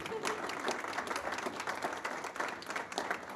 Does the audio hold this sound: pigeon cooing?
no